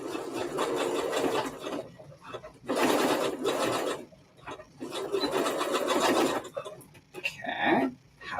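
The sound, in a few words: sewing machine sewing through thick strap material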